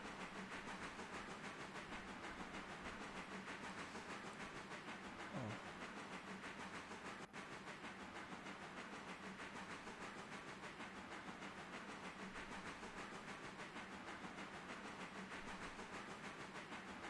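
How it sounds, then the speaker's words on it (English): A passenger train runs with a steady, faint rumble and hiss throughout, a distant even drone broken by one brief click and no speech. "I'm just kind of enjoying the sounds of the passenger train running while we're burning time"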